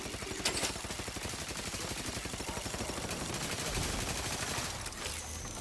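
Sustained automatic gunfire from a firefight in The Outer Worlds, a dense and continuous rattle of rapid shots with no letup across the whole stretch.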